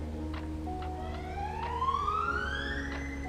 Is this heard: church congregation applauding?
no